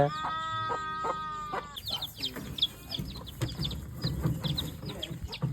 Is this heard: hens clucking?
yes